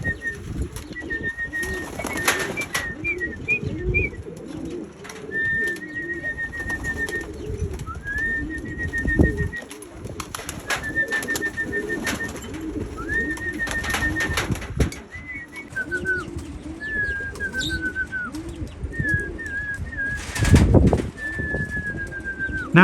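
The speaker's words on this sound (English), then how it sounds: "it's always amazing to watch the pigeons return home" Pigeons coo in a loft as they return, with repeated throaty calls close by over a busy background of flock murmuring. Bursts of wing flapping and shuffling come now and then, and a sharp flutter sounds near the end.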